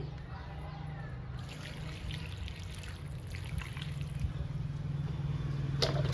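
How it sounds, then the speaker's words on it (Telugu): Water trickles and pours steadily onto potted Rhoeo plants during watering. The sound is a faint, continuous splash that builds slightly louder toward the end. "ఇంకా వాటర్ ఇస్తున్నానండి"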